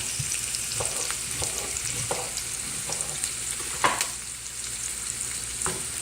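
Onions fry in hot oil with a continuous bright sizzle, broken by intermittent spits and crackles and one louder pop, close and unaccompanied by talk.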